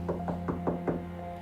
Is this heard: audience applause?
no